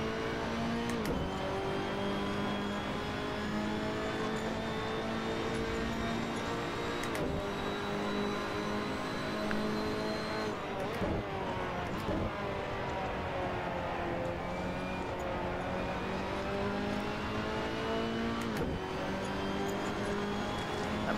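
A Ferrari P4/5 Competizione race car engine at Mugello in Assetto Corsa drones loudly and continuously, revving up and down through gear changes with a harmonic whine.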